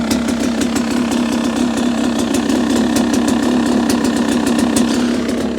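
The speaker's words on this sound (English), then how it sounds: "So I'm actually super happy with the way it's idling." A 2022 Beta 300 Race Edition two-stroke dirt bike engine idles steadily and close by, a low buzzing drone with a fast, even putter and no voices throughout.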